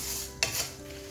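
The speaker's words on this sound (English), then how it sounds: "Now we're gonna give a good mix to the onion." Fried onion stirred in hot oil for a kofta meatball curry: one brief scraping stir bursts out over a low, steady sizzle, close by, with no voices.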